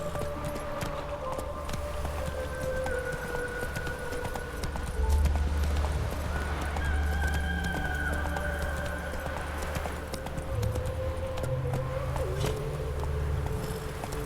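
Horse hooves gallop in a steady, close clip-clop rhythm while riding in The Witcher 3, with continuous game ambience and music beneath and a brief whinny-like tone partway through.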